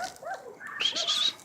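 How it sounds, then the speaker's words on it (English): A pet dog on a cold, rainy day gives a few short, whining barks at moderate distance, rising and falling over about a second and a half with no talk. "And let's see if we can see my dog."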